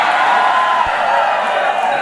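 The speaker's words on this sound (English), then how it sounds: "This is a rowdy crowd." Rowdy crowd noise from a played recording, a steady dense roar of cheering and whooping voices filling the whole stretch at a constant loud level.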